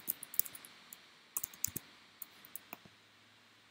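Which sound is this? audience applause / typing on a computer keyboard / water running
typing on a computer keyboard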